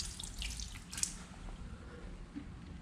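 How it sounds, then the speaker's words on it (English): Water poured onto a ceramic-coated car splashes and drips softly, a light trickling patter close by with no talk. "So kind of wanted to just pour some water on this and see how well it prevents water"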